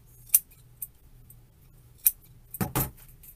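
Excess zip tie on a goose wreath is trimmed with scissors: a few sharp snips and clicks, then a louder, closer double cut near the end, set against a quiet room hum.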